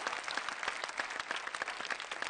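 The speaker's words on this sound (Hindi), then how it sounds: "हम एक बार जोरदार तालियां बजाएं" A studio audience claps at a televised poetry show, a brief burst of dense, even applause with a few sharper individual claps standing out, no talking.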